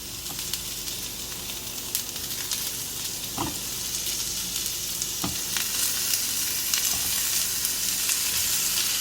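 Big pieces of jackfruit sauté in a hot pan, giving a steady, close hissing sizzle that builds slightly, with a few soft stirring knocks and no talking.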